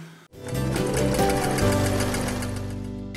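A domestic sewing machine stitching a dense rolled hem on plain cotton cloth, running at a steady, slightly slowed mechanical whir with rapid needle rhythm, close and continuous without voices.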